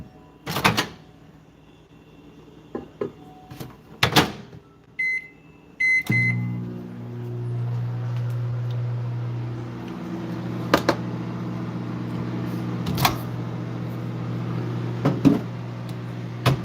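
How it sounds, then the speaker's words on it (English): A microwave oven reheating coffee and oatmeal: a few clunks and button beeps, then a steady, close running hum that continues alone to the end. "I'm gonna put both the coffee and the oatmeal back in the microwave."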